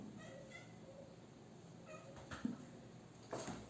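Housecat meowing indoors, several short plaintive meows at close range followed by a couple of louder, sharper mews near the end, with no talking over them.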